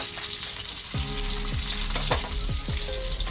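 Eggplants fry in hot oil for Hyderabadi bagara baingan, a dense close sizzle with several quick clattering knocks as the pieces are turned in the pan, no talking.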